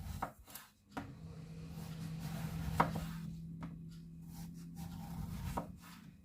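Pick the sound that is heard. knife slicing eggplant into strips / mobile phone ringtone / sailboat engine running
knife slicing eggplant into strips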